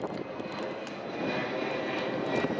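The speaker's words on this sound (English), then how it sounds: "the 5th plane I've seen so far" An airplane flies overhead near a coastal park path by a river, a steady, broad engine roar that holds loud and constant throughout with no talking.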